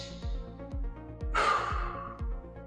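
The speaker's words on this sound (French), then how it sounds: "on prend une grande respiration" A person draws one deep, audible breath in during a calm breathing exercise, a single long airy inhale set over a soft, steady rhythmic low pulse in the background.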